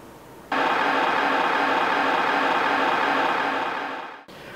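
A pink noise speaker calibration signal played from an AV receiver in a Dolby Atmos home theater setup: a steady broadband hiss that starts abruptly, holds for about four seconds and cuts off, with no voices.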